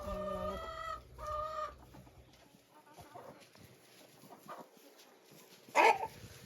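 Chickens and roosters in a poultry yard cluck and call in short bursts, with a crow-like cry early on and a sharp squawk near the end against a quiet background.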